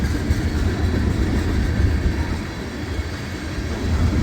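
A CSX freight train led by an EMD SD40-2 rolls past through snowy Point of Rocks, its boxcars making a heavy low rumble with faint rhythmic clacking of wheels on rail joints, close and continuous with no voices.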